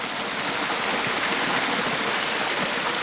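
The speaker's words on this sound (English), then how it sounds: "spring that comes from the ice of the mountains" Spring water said to come from mountain ice pours steadily from an Inca-era stone fountain in Bolivia, making a constant, close, broadband splashing rush with no talk.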